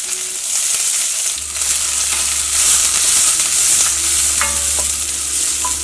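Sliced onion fries in a pan with green chili and a small piece of ginger, giving a loud, steady hiss and sizzle with occasional stirring clicks and no talking.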